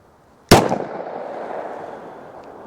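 A single sharp gunshot from a Glock 20 pistol firing Winchester Silvertip 10mm rounds outdoors, a loud close crack followed by a long fading rolling echo.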